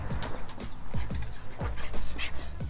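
A dog whimpers and yips in short, repeated high whines, close by, with some panting between the cries and no talking.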